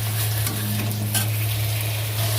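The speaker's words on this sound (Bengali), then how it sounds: "টমেটোটা দিয়ে খানিক্ষণ কষিয়ে নিয়েছি" Tomato and spice masala sizzling and being stirred in a pan, a steady close frying hiss with faint scraping, no voices.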